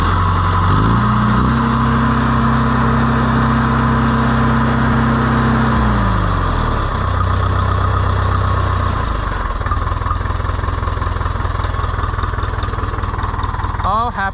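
An Oliver 1450 tractor engine idles after repairs, loud and close, with a steady chugging drone. The idle drops lower partway through and holds there, while someone talks over it.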